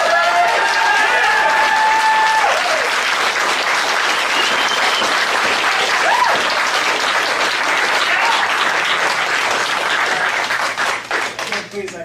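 A public meeting audience claps loudly and continuously for about twelve seconds, with crowd voices and a few shouts mixed in, before the clapping thins out and breaks into scattered claps near the end.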